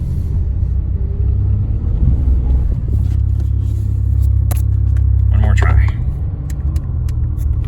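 A 1987 Pontiac Bonneville with a sick, grinding transmission rumbles steadily as it drives, its low drone swelling and easing under faint talk inside the car.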